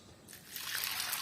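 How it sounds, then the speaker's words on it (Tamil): Water pours into a bowl of soaking peas, a soft close trickle that builds into a steady splashing stream over about a second. "தண்ணி ஊற்றுங்க அதுக்கு."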